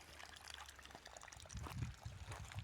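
Irrigation water trickles and pours through siphon pipes into furrows of a fenugreek plot set among sugarcane, a soft continuous gurgle that swells a little stronger partway through, faint and with no talking.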